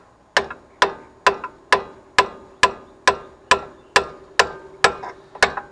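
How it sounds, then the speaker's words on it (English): Rusty brake caliper on a C10 pickup being tapped loose with a hammer: about thirteen evenly spaced, moderately hard metallic knocks, each ringing briefly, close and clear with no talking. "I'm not tapping very hard because I don't want to risk breaking the calipers."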